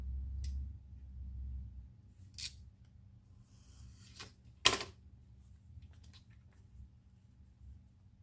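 Leather being cut for a zipper handle in leathercraft, a few sharp isolated snips spaced apart, close but fairly quiet over a low background hum, no talking.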